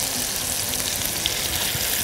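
Garlic, onion and ginger sauté together in a hot pan, a steady close sizzle and crackle of frying that continues evenly throughout.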